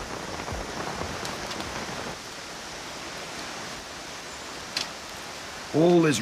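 Heavy rain falling steadily in the North Queensland bush, a dense, even hiss throughout with a brief louder burst near the end.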